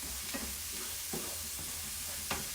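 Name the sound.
onion sauteing in a pan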